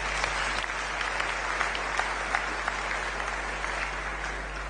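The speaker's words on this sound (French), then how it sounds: "Nous acclamons encore pour eux." A church congregation applauds in a dense, steady wave of clapping that holds at an even level throughout, with no voices rising above it.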